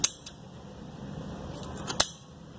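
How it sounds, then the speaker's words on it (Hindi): Scissors snipping off leftover buckram fabric while sewing a salwar cuff: a few sharp, close cuts, a quick pair at the start and a cluster near the end, with quiet between. "पहले हम ये एक्स्ट्रा काट देंगे जो बुकरम बचा है"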